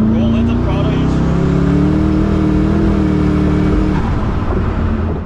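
Koenigsegg Regera hypercar with no transmission accelerating under steady throttle, a loud, continuous engine roar with rising harmonic tones sustained close by from start to finish, a voice faintly present beneath it.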